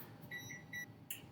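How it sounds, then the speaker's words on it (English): A kitchen timer beeps in short, clear tones, about three quick bursts followed by a brief higher chirp, faint over a quiet room hum. "the timer just went off"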